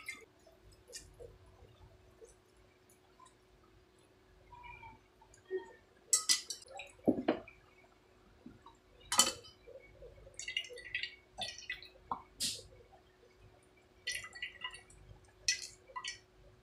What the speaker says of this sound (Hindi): अब मैं इसमें ऐसे छान लूँगी तो इसका जूस इसमें निकल जाएगा।